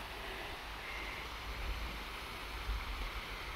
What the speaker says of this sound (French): Je vivrais moi au bord d'un ruisseau comme ça, on est bien.